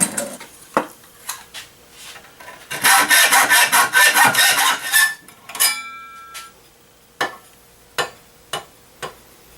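A short burst of quick hand-saw strokes on wood, surrounded by scattered knocks and clatter as pieces are handled nearby.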